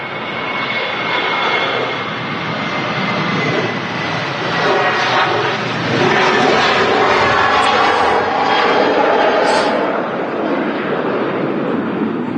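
A Jet2 Boeing 737 jet airliner rolls for takeoff at Manchester Airport, its engines a loud, steady, broadband roar that swells and holds throughout.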